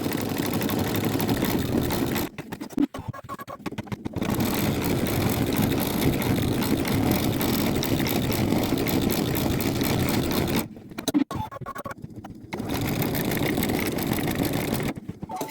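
Embroidery machine stitching synthetic thread at half speed, a steady continuous motorized whir with brief pauses where it stops and restarts.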